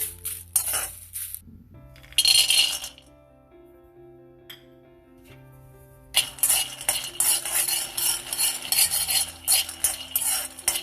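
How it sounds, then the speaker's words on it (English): Peanuts in a pan rattle and clink against the metal as they are stirred, in bursts of scraping and clattering separated by quieter pauses with a faint low hum beneath. "Next we'll fry peanuts."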